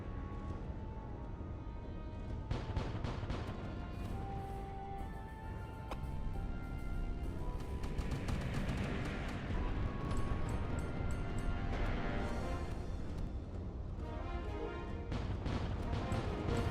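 Enemy ships are shot down in the space combat video game Void Sails, with continuous booming cannon fire and crashing explosions layered over a dense, loud rumble.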